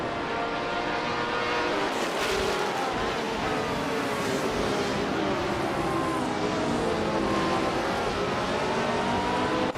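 A 1967 Honda A300 racing car in a racing game drones with a loud, continuous engine roar, its pitch rising and falling slightly as it holds speed.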